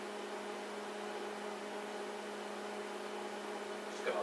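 A microwave oven heats an egg for a breakfast sandwich, giving off a steady, even electrical hum with a faint buzz that holds unchanged for several seconds, close and fairly quiet.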